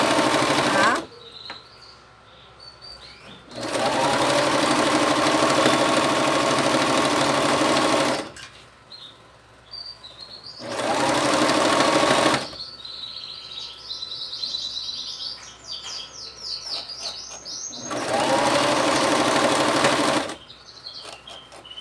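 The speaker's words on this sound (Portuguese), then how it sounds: "Eu vou passar uma costurinha aqui pra ficar um acabamento legal." A domestic sewing machine stitches a fabric turban in three sustained bursts of rapid mechanical whirring, each several seconds long, with pauses between them. Birds chirp in the background during the quiet gaps.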